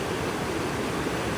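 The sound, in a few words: water flowing over rocks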